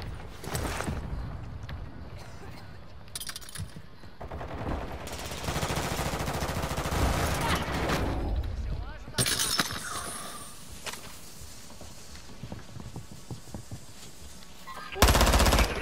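Gunfire in Call of Duty: Modern Warfare 2, with bursts of automatic fire and loud shots in separate clusters over a busy game soundscape that includes footsteps and impacts, ending in a sharp loud burst.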